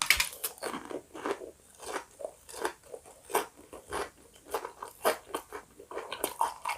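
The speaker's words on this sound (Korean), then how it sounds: "돈가스 한 개만 더 먹어볼게요." Close, loud crunching bites and chewing of a crispy breaded pork cutlet (tonkatsu) from a home-style lunchbox, with repeated crackly crunches in an uneven rhythm and no talking.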